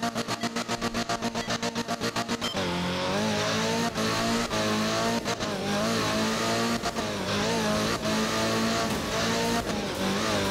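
Rally car engine in the art of rally video game, racing a wet, rainy German stage; the engine revs in a rapid pulsing burst, then roars loud and steady through continuous driving, with no voices.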